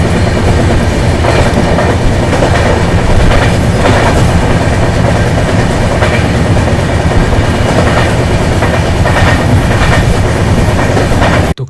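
An Indian Railways Uday AC double decker express train running in South India, a steady loud roar of wheels on rails with a faint rhythmic clickety-clack throughout and no talking.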